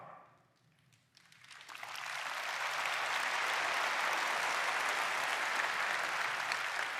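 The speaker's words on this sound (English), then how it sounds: "Only this conference do they clap for RAS." Keynote audience at a large tech conference begins clapping after a short lull, swelling over a couple of seconds into a broad, sustained wave of applause that fills the room.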